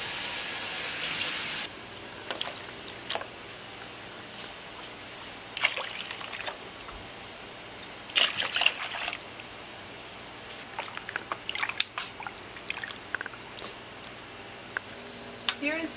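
Warm water trickles and splashes in brief bursts against quiet room noise, with a louder rush of running water at the start, poured into sourdough starter for bread dough.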